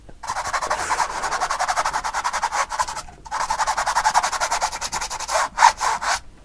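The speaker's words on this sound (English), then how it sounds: "different canvases make different sounds when you're scrubbing" Paintbrush scrubbing paint onto a canvas during a beginner landscape painting lesson, a steady close-up rasping rub in rapid back-and-forth strokes, pausing briefly twice, with no talking.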